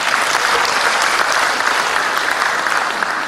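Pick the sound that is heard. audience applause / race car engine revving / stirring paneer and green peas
audience applause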